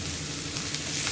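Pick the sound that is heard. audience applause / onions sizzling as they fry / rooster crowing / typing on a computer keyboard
onions sizzling as they fry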